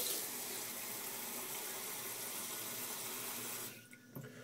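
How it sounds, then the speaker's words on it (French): Lukewarm tap water runs steadily into a sink where a shaving brush is left to soak, a close, constant broadband rush that cuts off near the end, leaving quiet room tone with a small knock. "Donc là, je vais le laisser tremper à l'eau tiède."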